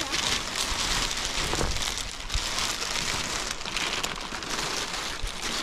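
Steady rain patters on a covering laid over a pile of clinker bricks outdoors, a dense continuous hiss with scattered drops, fairly close and even throughout.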